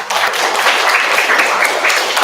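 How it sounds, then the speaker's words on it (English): An audience at an evening showcase breaks into warm, sustained applause, a full and even burst of many hands clapping with no one speaking over it. "Round of applause."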